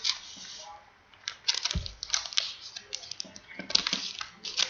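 Sealed trading card packs from a 2011 Panini Prime Signatures box being cut open, giving close, irregular crisp clicks and crinkly foil scrapes with a brief low thump, quiet between bursts.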